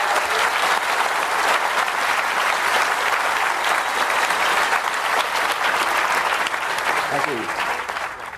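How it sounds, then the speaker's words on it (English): Sustained audience applause fills a hall at the Edinburgh International Book Festival, steady and dense throughout before tapering slightly at the end, with a brief spoken word near the close. "Just give him one more round of applause"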